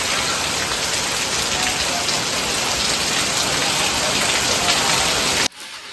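Heavy rain pours down suddenly, a steady dense hiss of drops drumming on surfaces that holds loud and even before cutting off abruptly near the end.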